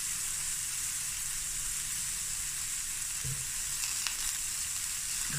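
Chicken and mushroom stir-frying in a 30 cm frying pan on an island stovetop, giving a steady close sizzle and hiss throughout with a few faint clinks of stirring.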